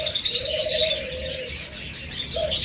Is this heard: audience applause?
no